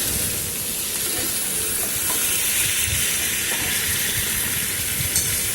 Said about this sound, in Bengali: উল্টে পাল্টে ভালো করে একটু ভাজা ভাজা করে নেব যতক্ষণ না চিকেনটা সেদ্ধ হয়